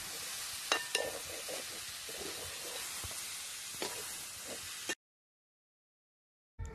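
Sliced onions frying in hot oil for a catering-style chicken biryani masala: a steady hissing sizzle close up with a few sharp clinks of a utensil, then it cuts to silence near the end.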